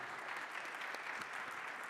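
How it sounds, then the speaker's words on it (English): Steady clapping from a conference audience for a panel session, dense and continuous throughout, with no voices over it. "please give a warm round of applause for our expert panelists"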